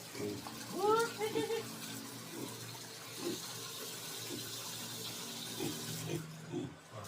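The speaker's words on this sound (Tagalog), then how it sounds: "Lalagyan natin ng kaunting tubig, mga isang litro ito ng tubig" Water pours and splashes steadily into a piglet's feeder at a gentle, moderate level, about one litre, while a voice briefly speaks near the start.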